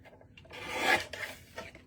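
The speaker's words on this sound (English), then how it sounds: "let me grab my trimmer here. We'll just trim a little bit off." A paper trimmer slices through cardstock in one short rasping stroke, followed by a couple of softer rubbing scrapes, close and quiet.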